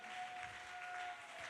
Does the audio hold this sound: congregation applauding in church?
yes